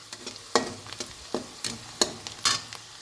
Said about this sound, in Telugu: ఆనియన్స్ బాగా బ్రౌన్ కలర్లోకి వచ్చేలాగా వేపేసుకుంటే చాలా బాగుంటుందండి.